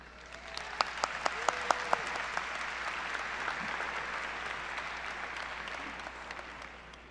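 Graduating class of 2021 at a McCluer High School graduation gets steady applause from a large crowd, with a few sharp whoops and whistles rising over the broad clapping for the full length.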